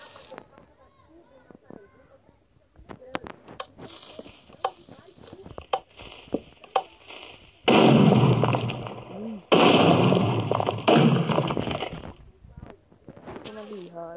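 Two loud, broad TNT explosion blasts in Minecraft-style gameplay, each roaring for about two seconds, with scattered clicks and game sounds around them.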